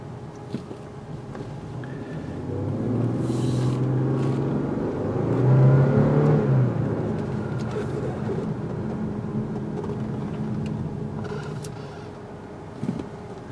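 A 2013 Audi A6 all-wheel-drive on the road, heard from inside the cabin: a steady low engine and road hum that swells into a stronger, rising drone midway, then settles back to an even cruise.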